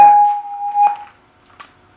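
An M&S MC602 radio intercom master station sounds its door signal: a bright electronic tone rings, repeats, then fades, followed by a faint click.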